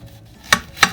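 A knife cuts the end off an onion on a board, two sharp chopping thuds about a third of a second apart, close and clear against a quiet background.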